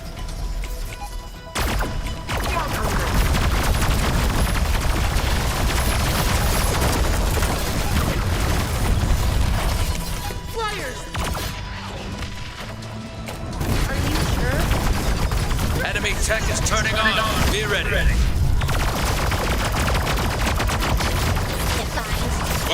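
Sustained gunfire and bursts of explosions rake a resource base in the strategy game Battle Aces, dense and continuous battle noise with brief lulls, under an announcer-style voice.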